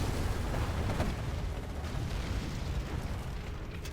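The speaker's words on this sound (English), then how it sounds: "Artillery coming across the map now as well." Artillery shells exploding across the map in a desert strategy video game, a continuous rolling rumble of distant booms and blasts, dense and steady without a clear individual impact.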